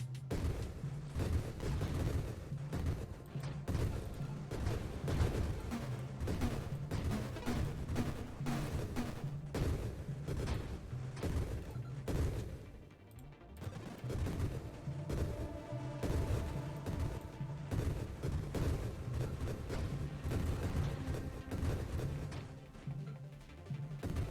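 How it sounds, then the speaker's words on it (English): Rapid-fire grenade launches combined with a barrage upgrade in the space shooter Nova Drift, a continuous pounding stream of thuds and booms at steady volume, with a brief lull in the middle. "combining this with barrage might be very interesting. Like rapid fire grenades."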